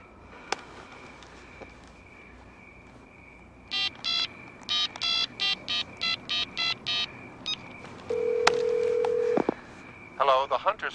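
A landline telephone is dialed with a quick run of touch-tone beeps over a faint dial tone, then a steady ring tone follows, heard fairly quietly indoors.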